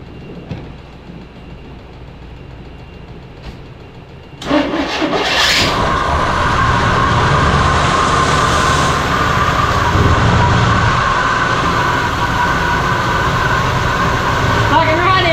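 An abandoned Chevrolet squarebody truck's engine cranks and catches after about four seconds, then runs with a loud, steady droning idle close by, with people talking before it starts.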